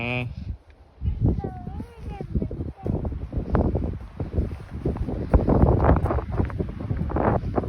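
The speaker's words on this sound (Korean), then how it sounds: "바람 엄청 불어" Strong wind gusts buffet the microphone on the road to the Goseong Unification Observatory, a loud, continuous rumbling roar with people's voices heard through it.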